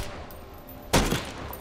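A single loud AK rifle shot goes off in the game Bloodhunt, a sharp close blast over a low background rumble with a short tail after it.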